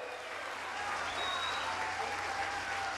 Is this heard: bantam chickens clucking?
no